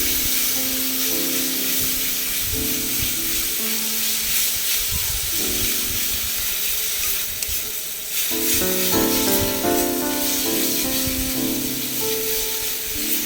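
Spice paste frying in oil gives a continuous, fairly loud sizzling hiss that runs steadily beneath tonal background music.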